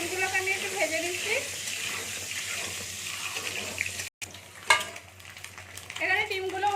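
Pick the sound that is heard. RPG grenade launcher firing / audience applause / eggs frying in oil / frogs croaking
eggs frying in oil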